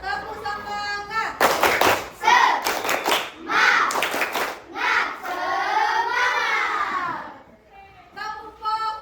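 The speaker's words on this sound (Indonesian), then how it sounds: "Kita ice breaking dulu, tepuk semangat dulu. 1, 2, 3, tepuk semangat." A primary school class does a rhythmic spirit clap routine, bursts of group hand clapping mixed with children chanting together in a classroom, loud and close.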